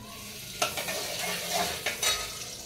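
A bagara tempering for gongura chicken cooks in ghee with a little oil, sizzling close up while a spoon scrapes and stirs in a few distinct strokes.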